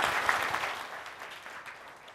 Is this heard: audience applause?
yes